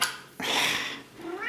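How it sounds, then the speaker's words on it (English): An indoor house cat meows loudly and close by, giving two drawn-out, wavering cries with a brief pause between them, with no talk over them. "It's not so easy with a meowing cat."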